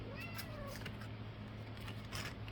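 A house cat meows softly indoors in a few short, faint calls over a steady low hum and background noise.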